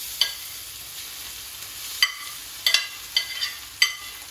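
Grated potato rosti hitting hot olive oil in a pan, a steady close hiss of frying with several brief crackling pops and scraping bursts, no talk.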